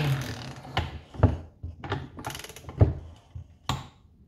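A torque wrench being tightened to 20 newton-metres gives off a series of sharp ratcheting clicks and clunks, spaced irregularly over a few seconds, close and fairly quiet.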